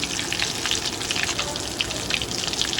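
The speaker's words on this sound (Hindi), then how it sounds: "ये देखें हमारी जो चीज़ बॉल हैं वो फ्राई हो रही हैं" Potato cheese balls fry in hot oil, giving a steady, close sizzle with dense crackling and bubbling that carries on without a break.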